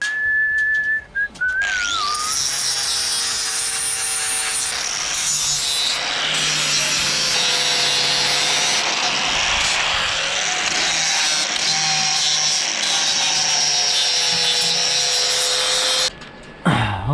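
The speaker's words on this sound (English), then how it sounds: "just tidy it up a little bit with the grinder" An angle grinder tidies up a rough weld bead, whining loud and steady for most of the run, with a brief scrape at the start and a drop-off near the end.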